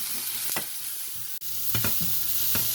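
Chopped vegetables being stirred with spices in a bowl, giving soft, steady scraping and stirring sounds with a few sharper clinks of the spoon, close and quiet, with no talking.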